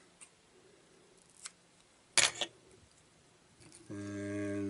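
Scissors make a quick, close double snip on a craft piece, the only crisp sound amid quiet ticks, followed by a steady hum that starts near the end.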